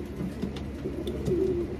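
Racing pigeon cooing softly, a low rounded coo rising briefly near the end over a steady murmur of other birds nearby.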